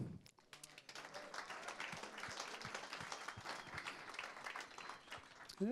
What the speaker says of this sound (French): On peut une nouvelle fois l'applaudir.